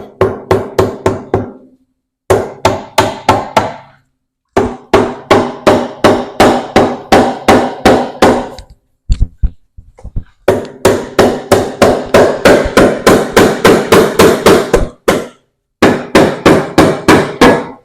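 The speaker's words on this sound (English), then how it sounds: "Get my rubber hammer here." A rubber hammer pounds the cylinder head of an International Harvester 140 tractor in rapid bursts of repeated heavy blows, with short pauses between series, loud and close.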